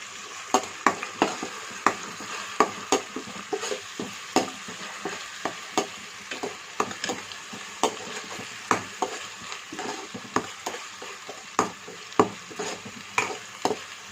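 Cumin, mustard seeds and green chili paste fry in a pan for a bean curry, with a steady sizzle and frequent sharp spoon scrapes and taps as the mixture is stirred, no voices.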